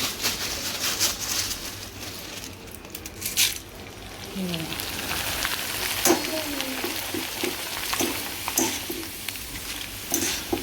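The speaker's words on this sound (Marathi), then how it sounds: "तळायचे आहेत मक्के पहिला मस्त बघा आता पुन्हा टाकू" Corn kernels fry in hot oil for a crispy monsoon chivda, with a steady dense sizzle and occasional stirring scrapes close by while someone talks over it.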